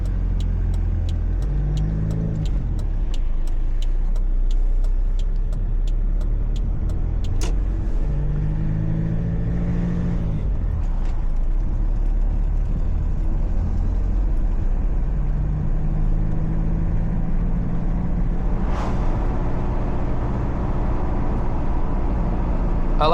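A 1991 Toyota Hilux pickup driving, its engine droning steadily and revving up and down through the gears as it moves along a road.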